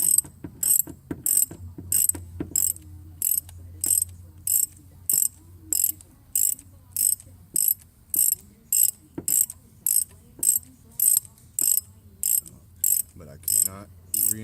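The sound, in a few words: removing spark plug from Ford 5.4L 3V engine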